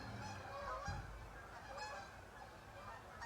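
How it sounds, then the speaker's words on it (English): Geese honking outdoors, several distant calls repeating in short bursts, faint and muffled as if heard through a window from inside a room. "Can you guys hear those geese outside?"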